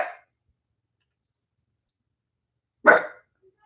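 A dog in the Ozarks gives two isolated barks, one cut off at the start and one clear bark about three seconds later, with silence between.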